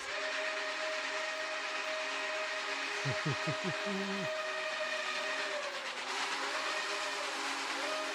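Two steam locomotive whistles blow together in a long, sustained chord over a hissing rail background, with a brief low warbling burst partway through.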